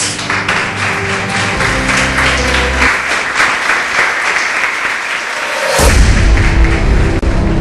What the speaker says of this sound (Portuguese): que todos louvem a Deus com as suas palmas